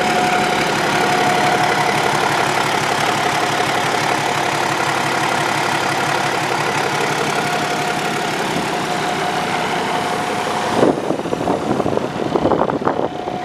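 A red 2015 Kenworth T880 day cab truck with an automatic transmission and 570,000 miles idles with a steady, loud diesel rumble and a constant whine, then shifts near the end as nearby clatter and handling noises come in.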